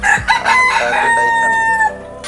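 A rooster crows loudly and close by on a fancy chicken farm that also keeps goats, its long rising-then-falling call filling most of the moment, with a bit of clucking at the start.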